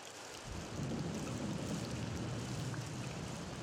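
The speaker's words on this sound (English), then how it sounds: "the patter of rain" Rain patters steadily, swelling in after a brief quiet start into a dense, even wash of drops with a low rumbling undertone that holds to the end.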